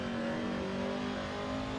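A racing car engine in a sim racing game, driven on a Next Level Racing GTLite Pro cockpit rig, holds a steady, loud, high-pitched drone with strong harmonics throughout, no voices.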